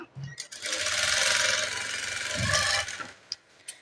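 Domestic sewing machine stitching a dart on a blouse, a steady whirring run of about two seconds close by, with brief handling noises before and after.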